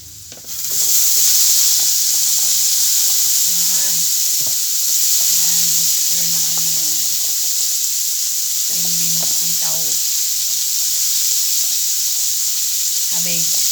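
Alamang (shrimp paste) fries in a pan with a loud, steady sizzle and hiss that runs the whole time, while voices talk over it now and then.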